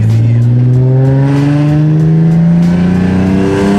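A big-turbo Nissan 350Z engine roars close by, its pitch climbing steadily as it accelerates hard.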